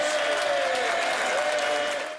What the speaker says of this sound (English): Applause is against Commons rules, but opposition MPs couldn't help themselves.